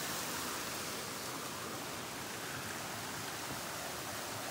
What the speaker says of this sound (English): one waterfall